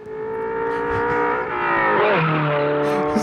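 RX-7 fitted with a straight-six turbo RB engine, revving hard with tire squeal and a shifting engine note, loud and close, no voices.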